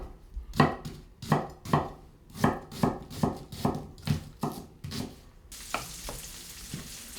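A knife chops food roughly on a board in about a dozen steady, close thumps, followed by a louder, steady frying sizzle near the end.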